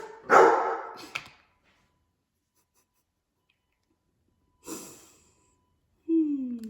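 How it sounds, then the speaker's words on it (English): Dogs bark in a couple of loud bursts, reacting to a truck backing up outside; long quiet gaps separate the outbursts, and a brief whine or moan ends the stretch. "Like these dogs right now, they're barking because there's a truck outside that's backing up"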